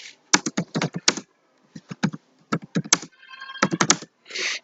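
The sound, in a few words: typing a MATLAB command on a computer keyboard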